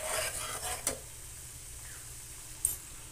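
A utensil stirs salt into a semolina mixture in a pan, soft scraping under a faint sizzle with two brief clinks of metal on the pan, close and without talk.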